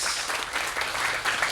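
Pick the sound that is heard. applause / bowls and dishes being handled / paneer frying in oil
applause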